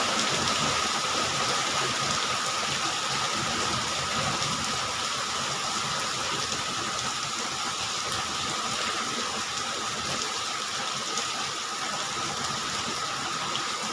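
Steady afternoon rain falls on a village in Bangkok, a constant moderate hiss of drops with a faint low rumble beneath and no voices.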